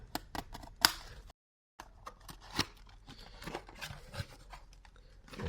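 Graded Yu-Gi-Oh card package being opened: small close crinkles, taps and plastic rustles in a quiet room, with one brief silent gap.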